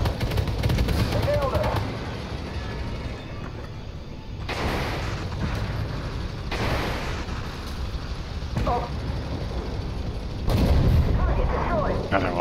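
Tank cannon fire and heavy booms from the Armored Warfare video game, a dense, rumbling battle din with several big blasts at intervals. A voice talks faintly beneath the noise.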